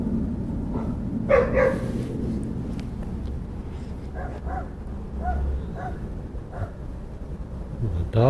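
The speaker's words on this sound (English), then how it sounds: "The dogs are barking." Dogs bark intermittently at a moderate distance in woods near Austin, Texas, over a background of wind and low rumble, with a few louder yips scattered throughout.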